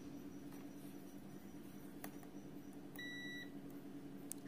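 KAIWEETS digital multimeter sounding its continuity beep, a short faint electronic tone of about half a second over a low steady hum in a quiet room.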